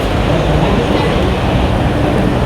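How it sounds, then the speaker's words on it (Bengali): A metro train pulls into Sovabazar metro station with a loud, continuous rumbling roar that fills the platform. "ট্রেন মেট্রো ঢুকবে।"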